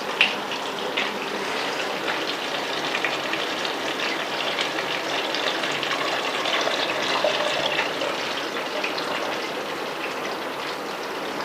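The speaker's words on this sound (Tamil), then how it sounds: "ஸோ அந்த புளி தண்ணி மட்டும் தான் இப்போ நான் ஊற்ற போகிறேன்." Tamarind water pours into a pot of fish curry as a steady, gushing splash that runs close and continuous for several seconds, with no one talking.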